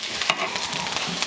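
Onion frying in a pan, a soft, steady sizzle with faint stirring scrapes, quiet and close with no talking.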